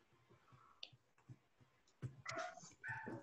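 A small pet dog in a home during an online math class gives a few close, sharp barks and yips, with quieter shuffling and clicks before the bursts grow louder near the end.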